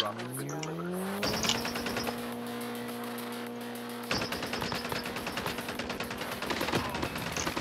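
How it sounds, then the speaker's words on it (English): A car engine in a multiplayer shooter video game, a steady droning hum with a rising pitch that levels off and holds, joined by bursts of rapid crackling gunfire in the background. "car comes straight for that drop."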